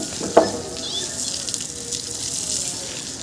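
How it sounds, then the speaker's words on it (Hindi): Water splashes and gushes steadily as it is sprayed onto a wall and sand at a house under construction, close and continuous, with faint background sounds. "बाबा पानी मार रहे हैं दीवार को, रेता को भी दीवार को भी"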